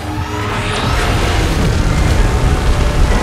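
A loud energy beam blast roars continuously in the Gorilla King Kong Fight video game, a dense rumbling wall of noise with booming low end, sustained throughout with no voices over it.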